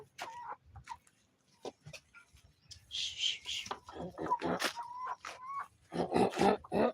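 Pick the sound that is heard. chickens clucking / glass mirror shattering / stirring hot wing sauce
chickens clucking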